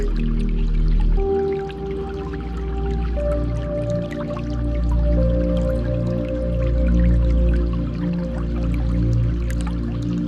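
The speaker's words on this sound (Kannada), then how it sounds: "ಅಲೆಯ ಸದ್ದು, ನೀರಿನ ಸದ್ದು ಕೇಳಿಸ್ತಾ ಇದೆ." Water drips and liquid trickles steadily over sustained low droning tones in a calm meditation soundscape, moderately loud and without any speech.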